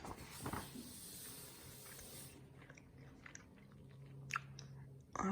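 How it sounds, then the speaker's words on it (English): Someone chews a piece of gum close to the mic in a quiet, soft-spoken setting, giving faint wet smacks and occasional crisp clicks, with one louder snap at the end. "I also just have a piece of gum that I'm chewing on."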